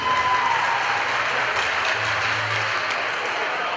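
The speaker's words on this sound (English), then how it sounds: "big round of applause for Kevin." A crowd claps steadily and loudly throughout as participants are introduced at a Guns and Hoses charity event, with the applause sustained and dense for a few seconds.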